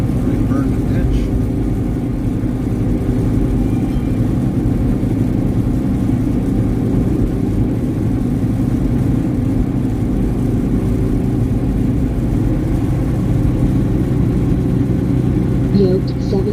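A truck engine drones steadily while driving, a loud, continuous low rumble with no clear revving changes, and people talk over it at times.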